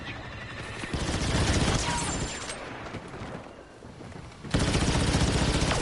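Rapid gunfire from blasters during combat in the Star Wars Battlefront video game, dense bursts of shots under a busy battle din, louder near the start and again near the end.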